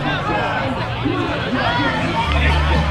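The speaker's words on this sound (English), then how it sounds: "the crowd has been very good here" A cricket crowd at the RIPL11 final between Royal Stags and Platypuses gives a steady murmur of chatter, close and continuous, under talk.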